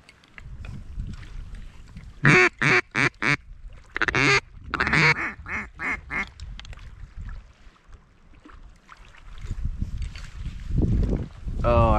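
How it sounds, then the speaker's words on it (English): Mallard duck quacking outdoors in mid-Missouri early in the morning: a loud run of rhythmic, nasal quacks in quick series, nearby, with wind and someone talking quietly at times. "That's mallard."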